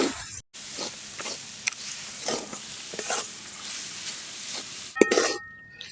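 A spoon stirs and scrapes a semolina modak filling mixed with milk powder and cardamom in a pan, giving repeated scraping strokes over a soft sizzle, close and fairly quiet.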